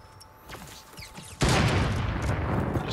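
A sniper rifle fires in Fortnite Battle Royale, ending a stretch of soft game noise with a sudden loud shot that carries on into a dense, sustained blast of sound.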